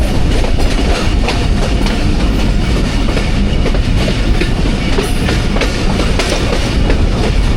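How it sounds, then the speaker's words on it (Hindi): The 13 Up Awam Express passenger train approaches Hasan Abdal railway station, rumbling loudly and close with a rhythmic clickety-clack of wheels over rail joints and steady rolling noise throughout, with no voices. "13 अवाम एक्सप्रेस अप्रोच बना रही है हसन अब्दाल रेलवे"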